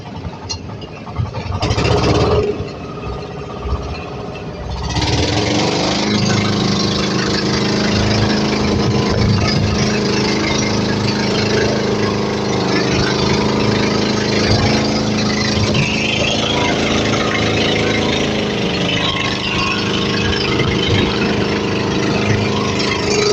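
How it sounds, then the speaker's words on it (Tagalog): Boat engines on a heavily loaded outrigger boat rev loudly during a Rosario, Cavite fiesta eve procession, a steady dense mechanical roar after a brief burst, continuous and close throughout. "Inarihan masyado yung kanilang mga makina."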